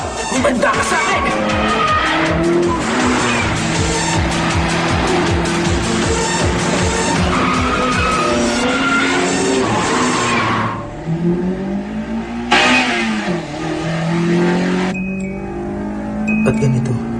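A racing car from Initial D revs hard and accelerates with loud, sustained tire squeal as it skids through turns, engine pitch climbing and dropping, with brief speech over it.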